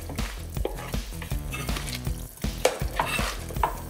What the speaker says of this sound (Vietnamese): mình sẽ nhỏ lửa xuống một chút và mình cho tôm vào